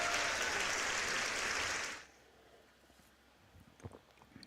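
Burst of crowd cheering and applause used as a stream redeem sound effect, loud and full for two seconds, then cutting off abruptly into quiet background with faint clicks.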